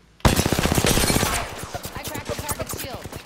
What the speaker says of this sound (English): Teammate shooting at me